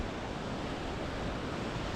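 Sea waves rolling onto rocks on the Angus coast in Scotland, a steady, close wash of surf with wind buffeting the microphone, no voices.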